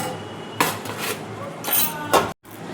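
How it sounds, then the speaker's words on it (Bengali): Cooking pan flipped upside down onto a metal plate, producing a few sharp metallic clanks and clinks at close range spaced over about two seconds, with kitchen background between them. "এবার দেখো একটা থালার উপর আমি উবুর করে দিচ্ছি।"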